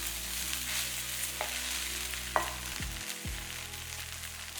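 Cooked parboiled rice being stirred into a pan for coconut rice, a low continuous sizzle with a few light scrapes of the spoon, close and fairly quiet, with no talking.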